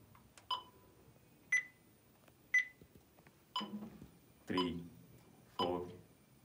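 Metronome beeping in 4/4 time, six short, evenly spaced electronic beeps with an accented first beat, heard between stretches of talk.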